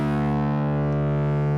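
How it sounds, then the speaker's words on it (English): An EarthQuaker Devices Bit Commander guitar pedal adds slight distortion to a sustained, buzzy synth-like guitar tone that holds steady and loud from start to finish, with no talking. "So you can hear there's a slight distortion added to it."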